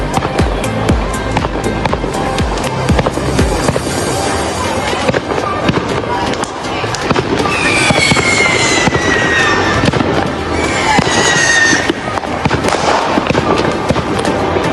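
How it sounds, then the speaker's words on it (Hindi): Fireworks and firecrackers going off outdoors on Bonfire Night in England, a loud, dense run of bangs and crackles, with whistling rockets rising near the middle and people talking and ambient crowd noise underneath. "वो देखो पीछे चल रहे हैं पटाखे।"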